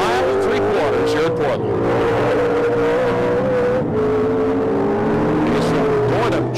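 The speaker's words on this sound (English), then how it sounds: "The Jaguar R Performance Rocket Sports Racing Jaguar with the AJ V8 engine." Jaguar R Performance Rocket Sports race car with an AJ V8 engine at a Trans Am race in Portland, loud and near, the engine droning and shifting pitch as it accelerates, with brief tire noise and commentary over it.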